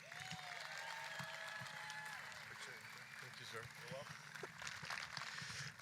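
A crowd at a rally applauds and cheers for the mayor of Eagle, with continuous clapping mixed with voices and scattered shouts throughout.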